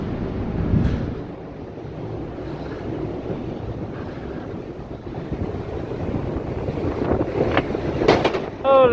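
Strong gusting wind roars steadily across the microphone on the summit of Mount Washington, buffeting loud and close with a few sharper gusts; a voice briefly speaks near the end.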